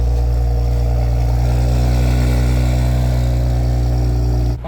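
A tuned B9 Audi S5 with a Stage 2 ECU and TCU tune runs loud and close, its deep engine drone holding steady at raised revs before cutting off abruptly at the end.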